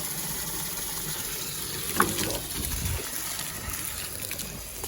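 Water splashes and trickles steadily from a hose soaking a potted tree up close, with a short gush partway through.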